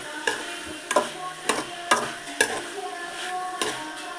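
A spatula scrapes and stirs food in a hot pan in regular strokes, roughly one every half second, over a steady low sizzle.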